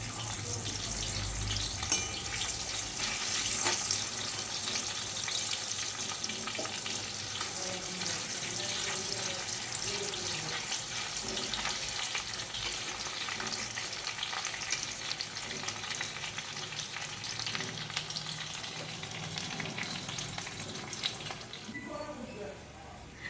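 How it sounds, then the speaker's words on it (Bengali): Slices of raw green banana, soaked in turmeric water, fry in hot oil in a kadai, making a dense, steady bubbling sizzle that runs throughout at close range with occasional faint clinks. "আমি অনেকগুলো চিপস ভেজে নিয়েছি এখন আরও এখানে কড়াতে আছে তুলে নিচ্ছি"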